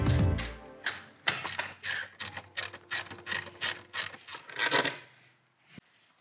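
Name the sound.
tightening stainless bolts with a 3/16 Allen wrench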